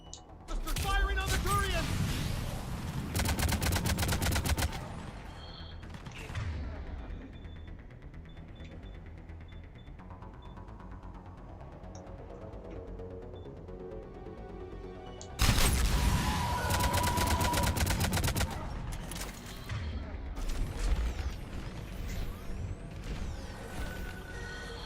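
Bursts of heavy gunfire in a Mass Effect 3 battle as troops fire on a Turian, loud volleys at the start and again later, separated by a quieter stretch of rumbling ambience.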